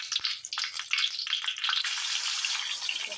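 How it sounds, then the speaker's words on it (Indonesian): Ground shallot, garlic, candlenut, pepper, coriander, lemongrass and galangal sauté in a pan, first with a few stirring scrapes and crackles, then settling into a continuous, even sizzle. "Ini akan kita tumis sampai benar-benar matang pemirsa"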